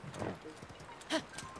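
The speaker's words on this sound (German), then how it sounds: "Pferd, Alter." Hooves of a horse from the video game Zelda: Tears of the Kingdom clopping in a quick rhythm at moderate volume, with a brief snort, under occasional speech.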